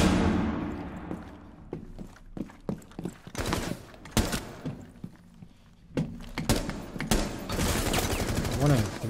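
Gunfire in Rainbow Six Siege rings out as scattered sharp shots and short bursts, with thumps and footsteps between them, under occasional talk.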